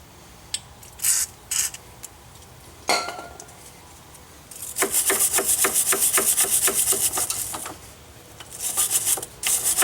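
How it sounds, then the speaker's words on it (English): A wire brush scrubs the threads of a bolt during front strut replacement on a 2005 Chrysler Town & Country. A few isolated scrapes come first, then a fast, steady run of close, loud rasping strokes, with a final short burst near the end. "take a wire brush, clean those threads real good"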